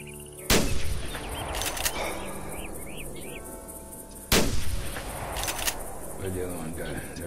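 Two loud rifle shots ring out in the hunting game theHunter Classic, aimed at whitetail deer in Redfeather Falls, each a sharp crack with a rolling echo, several seconds apart over steady outdoor ambience and a voice.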